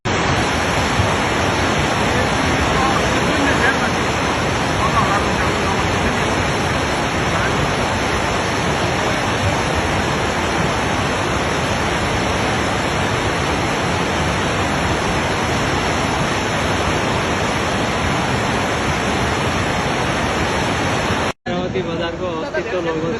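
The flooded Trishuli river rushes with a dense, unbroken roar of churning water, loud and constant throughout, with a brief dropout near the end.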